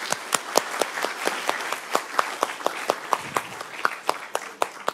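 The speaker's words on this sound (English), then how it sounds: "Peter doesn't get enough applause" Applause from a small audience at a doughnut economics event in Exeter: separate, distinct hand claps ring out in a loose rhythm for about five seconds, close and fairly crisp.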